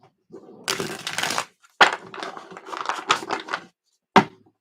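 A deck of cards is shuffled by hand in several bursts of riffling and fluttering, each broken by a short pause. The shuffles are close and crisp, and a sharp tap of cards comes near the end.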